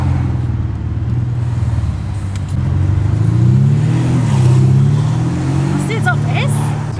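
A powerful car engine, with no diesel clatter to be heard, revs and drops through gears while downshifting, its deep tone rising and falling loudly and steadily throughout, with people talking over it.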